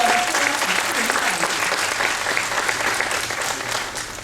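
Audience applauding for a pastor at a school graduation ceremony, a steady wash of clapping from a crowd that carries on at full strength throughout and eases slightly at the very end.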